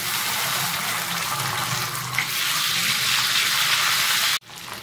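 Ginger paste dropped into hot oil with whole garam masala and bay leaves for shahi paneer, giving a steady, loud, close hiss of frying that holds evenly for several seconds before cutting off abruptly.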